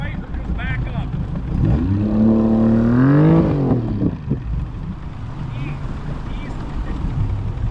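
River jet boat engine on a shallow river, a strong low drone that swells and rises in pitch as it revs mid-clip, then settles back to a steady hum, with voices talking over it.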